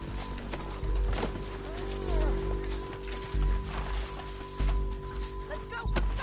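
Horse galloping in Red Dead Redemption 2 on PS4, repeated hoof thuds in a driving rhythm under game sound effects and voices, close and loud.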